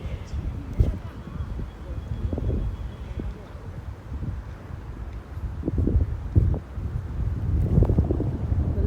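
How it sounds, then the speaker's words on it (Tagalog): Strong wind buffets the microphone in gusts at the Macau Tower at night, with rustling and a low roar that swells and fades throughout. "Ang lakas ng hangin."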